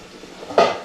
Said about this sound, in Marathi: दोन्ही आपली चिकनची झाकणी खोलायची.